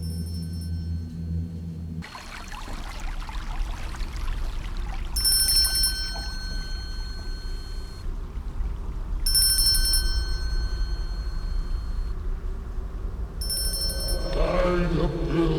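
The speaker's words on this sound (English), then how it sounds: "I can hear the bell ringing." A bell rings repeatedly in the video game Broken Triad: Arkford, bright metallic rings returning in three separate bursts over a steady low rumbling background, moderately loud and without speech.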